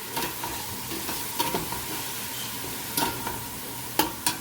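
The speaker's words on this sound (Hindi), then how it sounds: "साथ ही में अपना जो चम्मच है आपने वो भी चलाना है और इसको 1 मिनट तक हम इसको भूनेंगे।" Ginger garlic paste frying in a pot over medium-high flame, a soft continuous sizzle with a spoon stirring and scraping in short irregular strokes.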